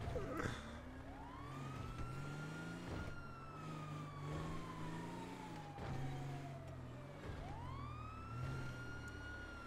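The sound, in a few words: police car siren in a chase, from video game GTA 5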